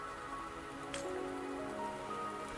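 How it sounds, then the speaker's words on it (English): Rain in the video game Wuthering Waves patters softly and steadily on surfaces, with a faint background musical hum and no voices. "Don't worry, the rain won't last much longer."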